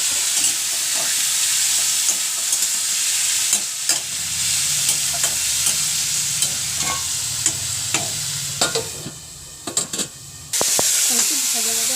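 Chopped onion frying in hot oil for a Bengali chicken curry with potato, a steady close sizzle with stirring clatter throughout and a deeper bubbling surge midway; no talk.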